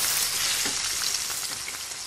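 An omelette sizzles steadily in a frying pan as it is flipped, a loud, continuous hiss with faint scraping pulses, no talking.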